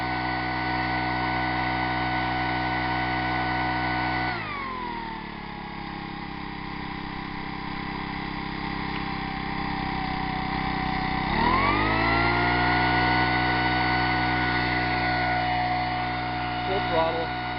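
A two-stroke engine running on synthetic fuel with no aromatics, revving up to full throttle. Its steady, close, buzzing drone rises and falls in pitch as the throttle changes.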